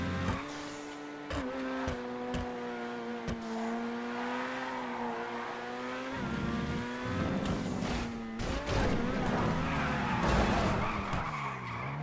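A car in a GTA V Online stunt race skids and scrapes against a barrier, a long tire squeal with a steady droning engine tone, broken by sharp impact clicks, growing rougher and louder toward the end as it spins.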